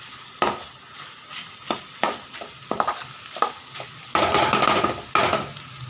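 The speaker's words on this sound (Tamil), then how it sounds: "இன்னும் கொஞ்சம் ஃப்ரைங் ஆகணுங்க," Vegetables sautéing in a pan on a stove over low heat, with a steady sizzle broken by repeated clanks and scrapes of a stirring spoon against the metal, growing louder and busier near the end.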